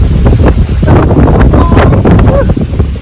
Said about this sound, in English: So this is how windy